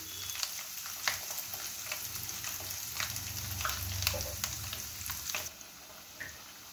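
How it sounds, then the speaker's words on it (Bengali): Chicken drumsticks frying in hot oil, a steady, moderately loud sizzle with crackling pops throughout, quieting slightly near the end; no voices. "এটা এবার কম আছে, আমি এটাকে ফ্রাই করে নিচ্ছি।"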